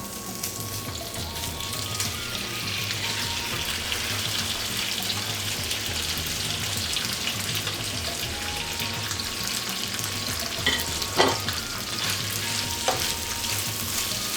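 Cooked beef tripe fries in a pan for Bangladeshi vuri bhuna, producing a constant close sizzle with a few sharp utensil clinks and stirring scrapes near the end.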